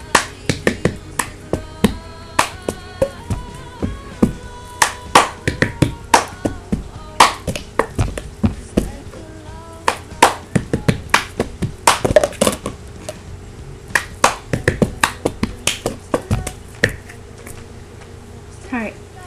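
Rapid cup-song rhythm of hand claps and plastic cup taps on a tabletop, a steady repeating pattern of sharp close percussive hits with no talking.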